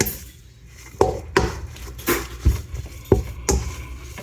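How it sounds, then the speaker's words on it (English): Homemade sausage meat being mixed with a paddle in a bowl, giving a series of irregular knocks, scrapes and clinks at close range with no talking. "just gonna use this paddle, and we're gonna mix it up"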